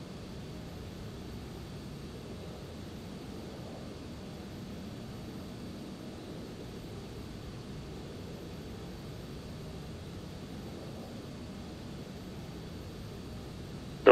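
Steady, distant jet airliner rumble at Atlanta International Airport, a broad low roar holding level for the whole stretch with no voices over it.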